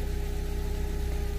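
A parked car's engine idles steadily in the background beside a dumpster, a constant low hum with a faint mechanical buzz throughout and no talking.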